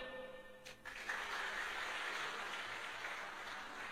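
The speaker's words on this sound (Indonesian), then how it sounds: "Tepuk tangan." Applause from a church congregation during a sermon, a dense, steady wash of clapping that swells after a brief quieter start and holds at a moderate, somewhat distant level.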